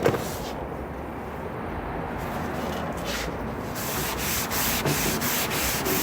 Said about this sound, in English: to sand the whole thing evenly